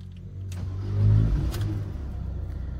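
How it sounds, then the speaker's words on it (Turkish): A Ford Fiesta engine cranks and catches with a brief rev, then settles into a steady, close idle with a low rumble and no talking. "Şimdi aracımızı çalıştırıyorum."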